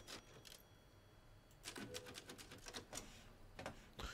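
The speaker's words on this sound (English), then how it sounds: "Oh, there's a typewriter too." Typewriter in the video game Resident Evil Village, a quiet run of sharp mechanical key clacks in irregular bursts, faint and close, with no talk.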